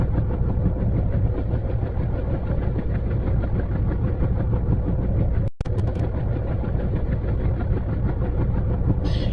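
A train in the mobile game Indian Bike Driving 3D rumbles steadily and heavily, like an engine, for the whole stretch. One sharp break cuts through the middle, and no one speaks.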